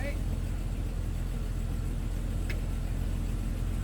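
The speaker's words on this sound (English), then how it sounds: "Sarah, you hear the engine? That right there, that little rev up." A Jeep Wrangler engine idles roughly with a steady low rumble throughout, close by, with a brief blip suggesting a small rev.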